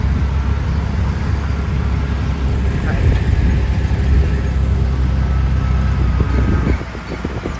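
An auto rickshaw ride through traffic near Panvel, with a continuous low engine rumble and road noise close by, and people talking over it.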